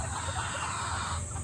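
Chickens cluck steadily in a short burst, with a constant flock-like murmur and no voices.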